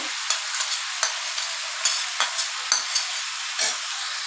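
Eggplant and spices hit a hot pan for Bengali labra, giving a steady close sizzle of frying with repeated scraping stirs of a spatula every half second or so, no voices.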